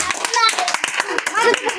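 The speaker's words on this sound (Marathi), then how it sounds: "टाळ्या वाजवा" Children in a free class at a government school clap their hands in quick, uneven bursts of sharp, close claps, with children's voices talking and calling over them.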